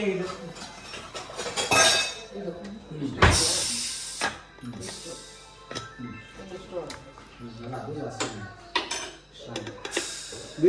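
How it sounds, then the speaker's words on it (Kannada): A pressure cooker being opened in a home kitchen on a Sunday to serve biryani, with a lid, metal pots and utensils clanking and clinking in bursts, mixed with people chatting close by. "ಕುಕ್ಕರ್ ತೆಗೀರಿ, ಚೂರು ತೋರಿಸು."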